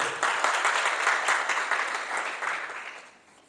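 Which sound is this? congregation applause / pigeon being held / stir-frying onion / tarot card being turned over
congregation applause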